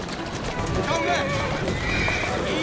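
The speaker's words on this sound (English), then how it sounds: "Who's a good horse? You are." A horse in Assassin's Creed Syndicate whinnies while its hooves clip-clop steadily, the game audio close and continuous for the whole stretch.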